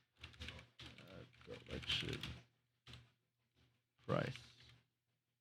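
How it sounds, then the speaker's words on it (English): Bursts of rapid clicking keystrokes on a computer keyboard come in short uneven runs separated by pauses, close and fairly quiet, with a single spoken word between them. "My typing sucks."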